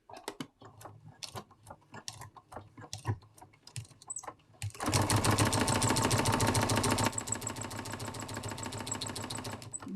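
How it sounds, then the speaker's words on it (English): A sewing machine lock stitches the binding of a quilt at a mitred corner, starting right at the edge: a few short bursts of stitching at first, then a steady, loud, continuous whirring run close by with no talking. "I'm going to start again right from the very edge, and I'm going to lock stitch that down in place"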